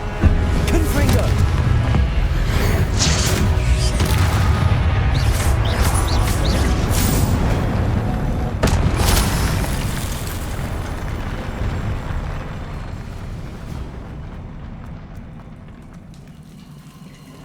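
Confringo fire spell in Hogwarts Legacy, a long roaring, crackling blast with sharp pops that holds steady for several seconds before slowly dying away.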